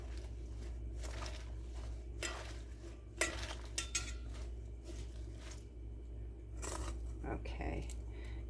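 Lettuce for a fattoush salad is tossed and mixed in a bowl, giving soft rustles and light clinks of utensils against the bowl in scattered bursts, with a person talking at times.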